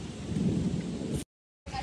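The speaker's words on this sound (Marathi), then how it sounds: "अँड हे बघा गडगडत आहे, बाप रे." Low thunder rumbles steadily through rainy monsoon weather in a village on the road between Sangameshwar and Sakharpa, with rain hiss underneath. The sound cuts out abruptly, then returns.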